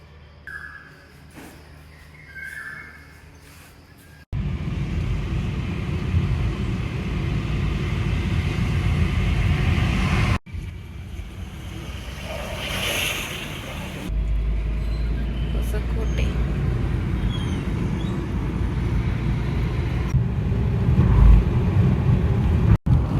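A vehicle travels along the road after a night of heavy rain, with a steady engine and road rumble that rises and carries on, broken by short cuts, while a voice talks over it in places.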